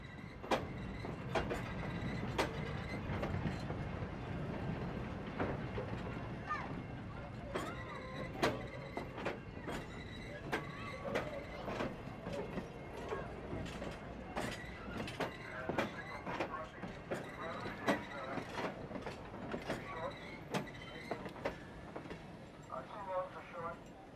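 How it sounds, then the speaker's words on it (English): A New Hope Valley Railway train rolls past the maintenance of way yard after leaving Bonsall station, with rhythmic clicking and clacking of wheels and car mechanisms over a low rumble, steady and moderately close. "Shortly after departing the station in Bonsall, the train passes by the maintenance of Way Yard."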